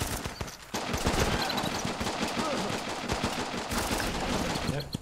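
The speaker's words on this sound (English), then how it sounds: "Yep, shooting the tree again." Gunfire in the video game Running with Rifles as shots are fired into a tree, a steady barrage of rapid, dense bursts that kicks in after a brief quieter moment and keeps going without pause.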